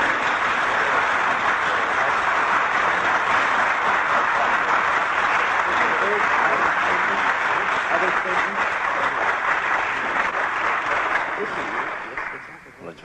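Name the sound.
audience applause and cheering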